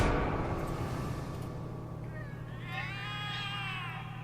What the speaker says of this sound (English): The cats are alarming.